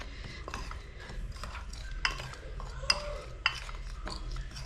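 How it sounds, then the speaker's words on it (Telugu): Salt is stirred by hand into gram-flour batter with ajwain for chilli fritters, a soft, wet stirring sound broken by a few sharp clinks against the bowl. "అయితే కొంచెం ఉప్పు వేసి ఇటు కలుపుకోవాలి"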